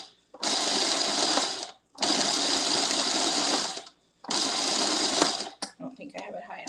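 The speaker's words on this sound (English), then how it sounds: "So we're going to pulse these oats right quick." Oats are pulsed in a food processor in three loud, close bursts of motor whir, each about one and a half seconds long, separated by brief silences, followed by small rattles and handling noises.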